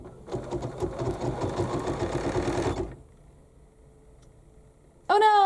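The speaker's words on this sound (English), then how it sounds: "we just press and hold our green go button. It wakes up and it starts to sew." A BERNINA embroidery machine starting to stitch: a dense, rapid mechanical whirring and clatter for about three seconds, then it stops to near silence before a brief electronic beep.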